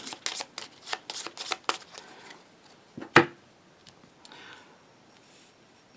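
Grimslingers Duels playing cards are riffled and shuffled on a table in a quick run of crisp, rapid flicks, followed by a single sharp snap and quieter handling of the deck.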